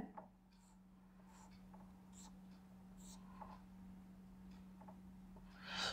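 A pen writes on paper up close, quiet intermittent scratchy strokes in short bursts over a low steady hum in a calm room.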